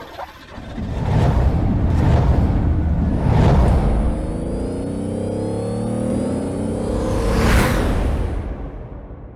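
A Porsche Macan engine revs up several times in deep, rumbling bursts, loud and close, with a steady exhaust drone between the swells.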